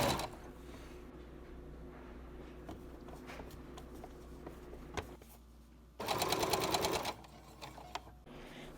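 A sewing machine stitches a long skirt's top to its waistband in one short, close burst of about a second, surrounded by quiet handling noises and soft clicks.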